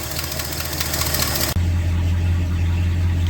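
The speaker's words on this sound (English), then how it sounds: "It's a ridiculous exhaust leak on this side." A 1968 Ford XL V8 idles with a ridiculous exhaust leak, a steady, loud low rumble with ticking pulses; the tone abruptly drops and deepens halfway through as the engine settles into a heavier idle.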